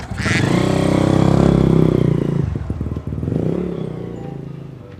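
A motorcycle engine revs up loudly nearby and pulls away, its rumbling tone rising then dropping as the bike rides off, with a brief dip and second rev before fading.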